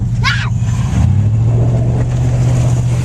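A shiny new Buick Riviera fitted with a small-block Chevy engine hums steadily at close range, with a rise in its low drone about a third of the way in and a brief high chirp near the start.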